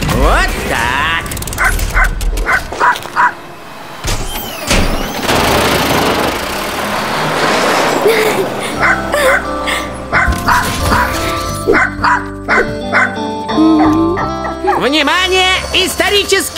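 A cartoon dog barks and yips repeatedly in short, loud bursts over busy animated-show sound, with engine-like rumble and other effects mixed in.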